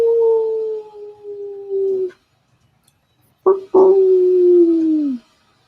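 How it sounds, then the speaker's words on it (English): A wolf howls in a forest, two long, sustained, slowly falling tones separated by a brief silence, the second opening with a sharp yip, clear and isolated with no talking. "and it's a wolf howl for sure"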